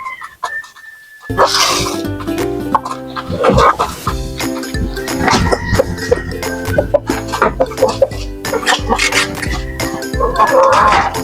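Native chickens and chicks in a yard, with continuous clucking and chirping close by, loud and busy throughout, with a brief quiet opening and someone speaking over the birds.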